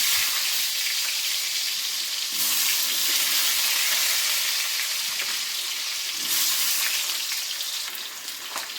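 Long-cut potatoes sizzle steadily in hot mustard oil, a dense close frying hiss throughout with brief stirring surges around the middle and again near the end; no one speaks.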